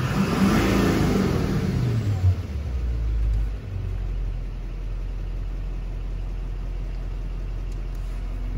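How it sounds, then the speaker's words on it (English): Engine of a Chevrolet Kodiak C4500 medium-duty ambulance, revving loudly at first and then settling into a low, steady idle rumble for the rest of the stretch, with no talk. "Engine runs solid."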